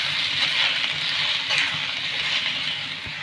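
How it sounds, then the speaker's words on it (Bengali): Steady, soft sizzle of food lightly frying in a pan with turmeric and salt, a continuous hiss with faint crackles and no talking. "এবার আমি হালকা ভেজে নেব।"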